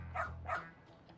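A dog in the video game Lost Judgment gives two quick, close barks in a row, followed by a faint softer yip.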